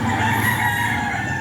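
A young gamecock rooster crows in one steady, close, loud call that fills the short moment without pause.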